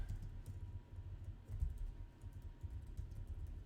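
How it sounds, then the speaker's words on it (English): Typing on a computer keyboard, a quiet run of irregular soft key clicks heard close and alone over faint low hum. "If I can type."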